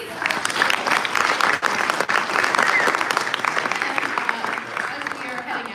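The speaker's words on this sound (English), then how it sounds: "One round of applause, please" Audience at a Hasbro toy convention panel applauding, a dense, loud, continuous clapping from a large crowd that fills the room for several seconds.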